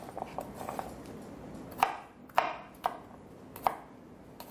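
Knife chopping garlic and onions on a cutting board, a handful of sharp, evenly spaced thuds standing out clearly against a low kitchen background with no talking.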